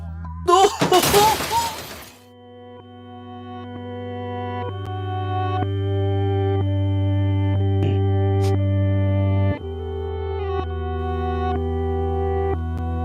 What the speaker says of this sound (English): Guitars reversed to create that sound.